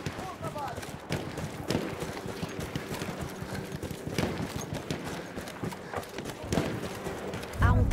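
Horse galloping in Battlefield 1, rapid rhythmic hoofbeats close by under battlefield noise and voices, with a louder thump at the end.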